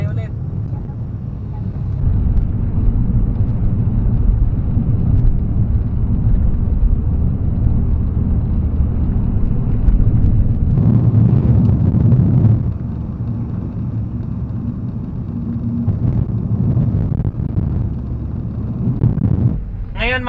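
Vehicle driving, captured on an Akaso action camera: a loud, steady low engine and road rumble with swelling passages and wind buffeting, continuous throughout.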